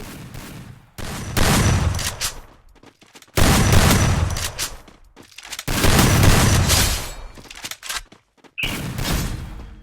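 Video game gunfire from Free Fire MAX arrives in loud bursts of rapid shots separated by short gaps, booming and close, with no talk over it.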